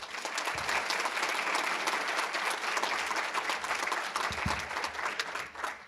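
Sustained audience applause fills an awards ceremony hall at the Lapeer Citizen of the Year Awards, a dense, steady clapping from a large crowd that runs the whole time without letting up.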